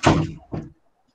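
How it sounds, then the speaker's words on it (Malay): A door is opened and then closed, giving two muffled thuds about half a second apart, fairly close and followed by silence. "saya dengar buka pintu tutup pintu"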